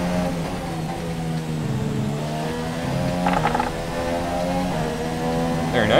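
An F1 car engine in the F1 2017 video game, at the Canadian track, revs with a rising, buzzing whine through gear changes, loud and close, with brief higher bursts and no voices.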